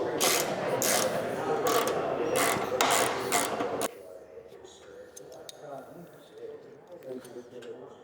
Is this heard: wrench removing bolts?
yes